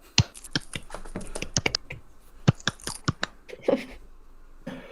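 Sharp, irregular claps or snaps, about a dozen quick hits in uneven bunches, close and crisp over a quiet background, then a pause and a final soft rustle.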